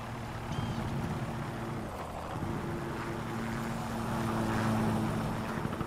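Care package delivery aircraft in Call of Duty: Modern Warfare 3, a steady droning propeller hum that briefly dips and then swells slightly louder as it passes overhead, with no voices.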